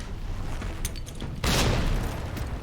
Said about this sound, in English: time to throw a grenade